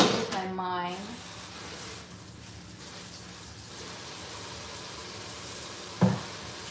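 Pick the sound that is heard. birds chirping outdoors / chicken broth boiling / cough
chicken broth boiling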